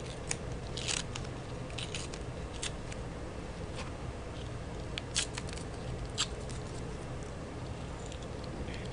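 Razor blade slicing through the plastic shell of an Xbox controller, giving a steady scraping, crackly cut with a few sharper snips and clicks, close and continuous with no talking.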